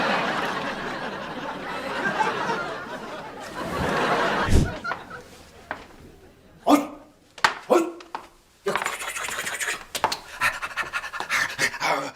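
A dog in a home gives a few sharp barks amid heavy panting and rustling, with short loud bursts separated by quieter stretches and faint laughter.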